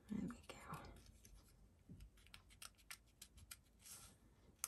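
Soft snipping of scissors through card, a run of short crisp cuts at close range, with faint low murmuring beneath.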